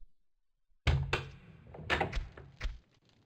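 Locked door in the video game Tomb Raider 2 gives a single heavy thud after a brief quiet, followed by a short run of rattling knocks that fade out.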